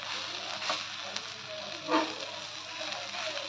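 Okra jhanga, a Bihari bhindi dish, cooking in a pan: a soft, steady sizzle with faint crackles and a brief stirring scrape midway, fairly quiet and without voices.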